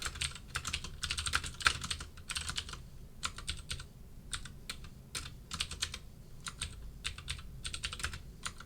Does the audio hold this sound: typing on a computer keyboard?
yes